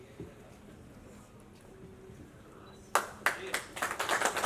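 An audience at a press meet for a folk and fusion music festival applauds a band. It is quiet at first, then a burst of clapping starts partway through and builds in short, uneven waves.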